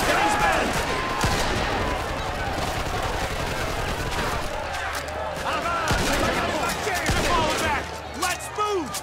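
Rapid gunfire in the crime video game Mafia 2, set in the old country: a steady stream of sharp cracks and bursts, fairly close and loud, with a voice speaking over the shooting.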